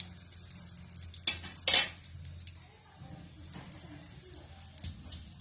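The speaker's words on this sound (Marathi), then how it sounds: "अशा पद्धतीने आता ह्या सगळ्या पुऱ्या आपण तळून घ्यायच्या." Matar puris deep-frying in hot oil, a low steady sizzle broken by two brief bright clinks of a utensil against the pan and a few softer stirs, close and fairly quiet.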